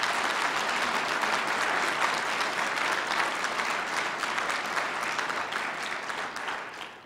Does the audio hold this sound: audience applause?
yes